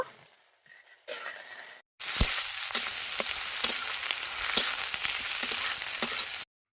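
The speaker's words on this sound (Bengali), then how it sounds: "কাঁচা লঙ্কা পেঁয়াজে একসঙ্গে কেটে রেখে দিয়েছে তাই দিয়ে দিচ্ছে তেলের মধ্যে ভালো করে লেড়ে লাল লাল করে ভেজে নেব" Chopped green chili and onion hit hot oil with a clatter, then a loud, steady sizzle and hiss carries on up close while being stirred, before cutting off suddenly.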